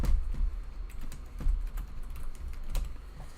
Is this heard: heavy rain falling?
no